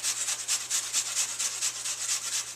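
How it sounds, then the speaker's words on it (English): An apple is shredded on the flat side of a hand grater while making paleo morning glory muffins, giving a close, steady series of rhythmic rasping strokes, about ten in quick succession. "And finally, to grate, I'm going to turn the grater around."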